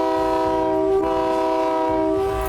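A train horn sounds loudly and steadily through the whole stretch, a sustained multi-tone blast over low rumbling of a train beginning to move, with no talking.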